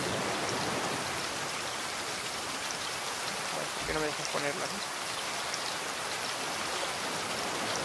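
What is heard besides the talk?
rain falling in the video game Raft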